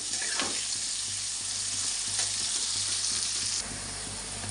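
Onions frying in oil with bay leaves, a steady close sizzling hiss that runs throughout, with occasional stirring scrapes, no voices.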